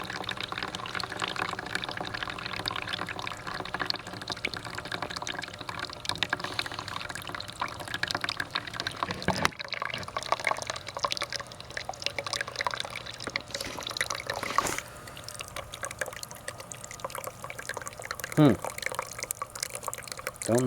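Hot water runs from a 1996 Elektra La Deliziosa T1 Italian espresso machine, recently out of storage, a steady pouring and dripping wash that continues under a humming machine for about twenty seconds with brief clicks.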